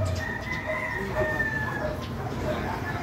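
A rooster crows and fowl cluck among a flock of white birds, fairly faint and distant over a steady outdoor background, with a voice talking quietly at times.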